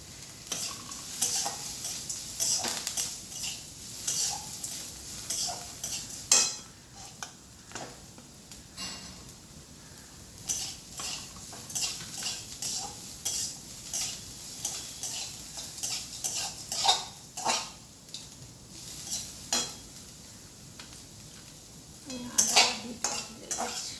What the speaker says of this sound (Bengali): দিয়ে দিলাম আমি কারি পাতা, কারি পাতাটা দিলে মতো ঠিকরে ঠিকরে ওঠে।